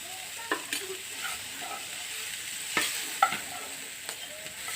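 Ground coriander, cumin and Kashmiri chilli powder fry in a pan for rajma curry, giving a steady close sizzle broken by sharp clinks and scrapes of a stirring spoon.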